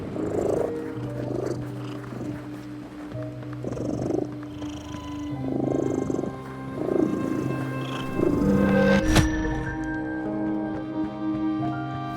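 A cat purring in the video game The Midnight Walk, a steady close rumbling purr that swells and eases in a slow repeating rhythm over quiet ambient game music.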